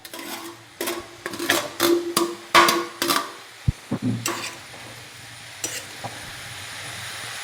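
A ridge gourd curry with crushed coconut and garlic is stirred in a pan, giving a run of rhythmic scraping strokes over a soft sizzle that fades to a quieter simmer.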